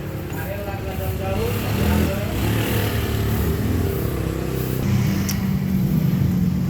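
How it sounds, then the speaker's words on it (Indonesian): A Honda Beat FI scooter engine runs steadily through a test ride, a continuous motor drone with road noise, fairly close and even in loudness. "Oke, motornya dites dulu."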